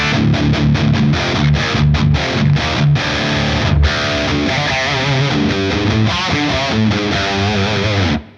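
Electric guitar played through a Tone City Wild Fro distortion pedal at full gain on its crunch setting, a loud, thick, saturated tone with tight low end, chugging palm-muted rhythms and ringing chords played alone, no talking.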